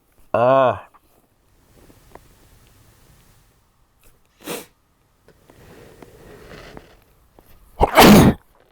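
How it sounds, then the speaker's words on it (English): A sharp, loud sneeze bursts out near the end, after a short voiced sound, quiet rustling and a brief sniff. "I'm about to sneeze, guys."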